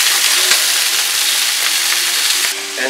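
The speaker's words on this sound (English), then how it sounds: "And while your venison burgers are frying" Venison burger patties sizzle and crackle steadily in a frying pan, a loud, dense, continuous fry heard up close with no talking.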